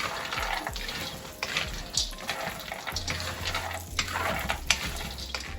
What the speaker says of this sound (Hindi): अलसी भूनने के बाद हमने 3 टेबलस्पून देसी घी डाल दिया, उसमें अब सारे नट्स फ्राई कर लेंगे